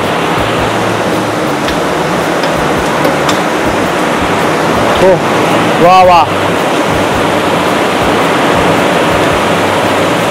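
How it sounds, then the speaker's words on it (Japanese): Heavy rain pouring down by the sea, a loud, unbroken hiss and roar lasting throughout, with a person briefly exclaiming over it. "すごい雨"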